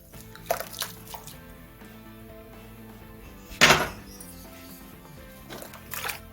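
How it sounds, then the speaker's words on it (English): Rinsing a brewing grain bag during homebrewing of an old ale, soft drips and splashes of water falling back into the liquid at irregular intervals, with one louder splash partway through, close and fairly quiet. "Give it a bit of a rinse."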